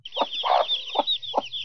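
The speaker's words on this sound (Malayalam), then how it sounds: "അവയുടെ കുഞ്ഞന്മാരനെയാണ് നമ്മൾ ബാൻഡം കോഴികൾ എന്ന് വിളിക്കുന്നത്" Bantam chickens clucking close by, four short throaty clucks spaced through a brief moment over a faint high background twitter.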